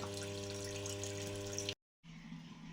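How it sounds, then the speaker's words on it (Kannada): Water runs steadily into a household tank with a constant rushing flow and a low hum beneath it. The flow cuts out briefly, then resumes a little quieter. "ನೀರು ಬಂದಾಯಿತು"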